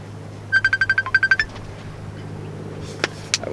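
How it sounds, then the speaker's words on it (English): Mobile phone ringing with an incoming call outdoors at a cold-weather river carp-fishing spot, a quick run of loud electronic tone pulses in two bursts, then quiet with a few faint knocks. "And of course I'm getting a phone call."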